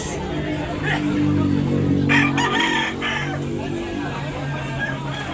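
Roosters crow and cluck nearby at a chicken market in Tabunok, Talisay, Cebu, with crowd noise and people talking over the birds.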